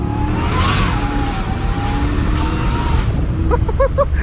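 A Hellcat Redeye engine revs with its exhaust valves closed: a loud, muffled, steady drone that climbs briefly in pitch, then a short voice near the end.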